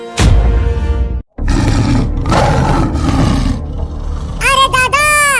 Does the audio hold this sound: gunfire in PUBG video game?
no